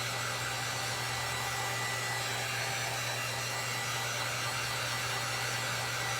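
A hair dryer runs steadily and close, a continuous loud blowing whir with a low hum, used to dry fresh paint on a twin bed headboard.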